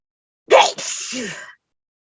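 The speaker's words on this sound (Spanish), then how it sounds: "Salud a quien esté estornudando." A single sharp sneeze, close and fairly loud, bursting out abruptly and trailing off into a breathy exhale during a quiet slow-breathing meditation session.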